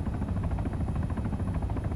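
A helicopter in the ARMA 3 Altis Life video game drones steadily with its rotor chopping, a constant moderate whir with no voices.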